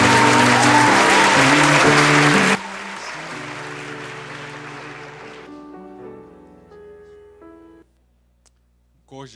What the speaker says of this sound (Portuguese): Vamos recebê-lo com uma calorosa salva de palmas.